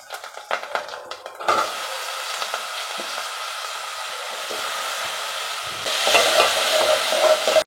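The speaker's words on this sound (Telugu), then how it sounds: "ఇప్పుడు టమాటాలు వేసేసుకోవాలి." Tomatoes go into a hot pan for a Nellore brinjal and raw mango curry, a few quick scrapes and knocks giving way to a steady hiss of frying that grows louder near the end.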